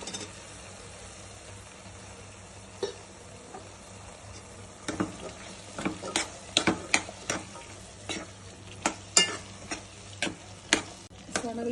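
Chickpeas are stirred into a simmering gongura curry, with a low, faint sizzle followed by a run of sharp, irregular spoon clacks and scrapes against the pot.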